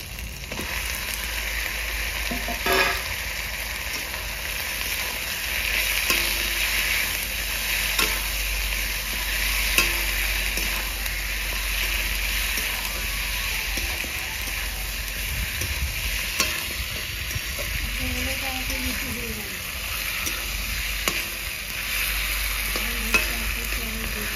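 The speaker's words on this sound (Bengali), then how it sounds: "বন্ধুরা মাংসটা ঢেলে দেবো।" Chicken pieces fry with a loud, continuous sizzle in a pan while a utensil stirs and scrapes through them, making repeated clacks and scrapes up close.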